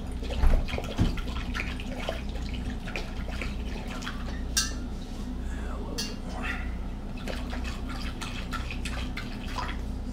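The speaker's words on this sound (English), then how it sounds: "Now we're filling up our fermenter to the number two and or eight quart line with more cold water." Cold water pouring into a Mr. Beer plastic fermenter while brewing a Thunder Bay IPA, a steady trickling and dripping splash close by under a low hum, with someone talking over it.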